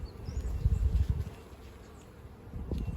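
Honeybees buzzing around an Australian beehive during a varroa check, a steady close drone that swells louder early on, eases, then rises again near the end.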